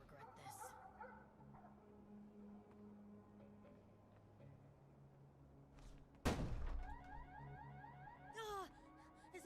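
An alarm goes off in the video game Dustborn, its repeating electronic tones rising in pulses over a low background, broken by a sharp loud impact midway, with a voice speaking at times.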